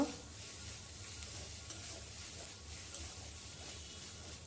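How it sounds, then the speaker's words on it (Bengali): Masala paste with ginger paste fries in a pan for a catfish curry, a soft, steady sizzle with gentle stirring, fairly quiet throughout. "আবার মশলাটাকে ভালো করে নেড়ে নিব"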